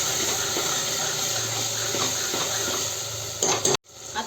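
Pav bhaji masala being stirred in a pan, a steady close scraping and soft sizzle running throughout, broken near the end by a brief louder clatter and a sudden short silence.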